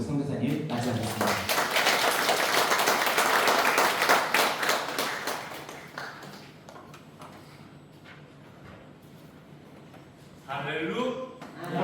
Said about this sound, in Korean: 여러분 박수로 우리 선교사님 맞이하겠습니다